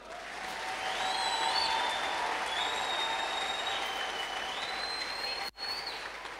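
Applause from a church congregation, a broad, continuous wash of clapping heard at a distance, with thin sliding whistle-like tones riding above it and a brief dropout near the end.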